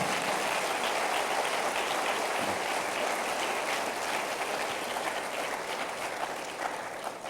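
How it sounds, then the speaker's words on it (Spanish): A church congregation claps in praise to the Lord, a dense, steady wash of applause that fills the room and tapers slightly toward the end. "Dale otro aplauso al Señor de alabanza."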